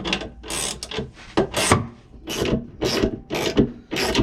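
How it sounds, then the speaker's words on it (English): A ratchet works a motorhome wheel nut during a tyre change, a series of close, rasping clicking strokes in repeated bursts with short pauses between them. "So we'll go and get the ratchet, shall we? Okay, so let's get this ratchet on."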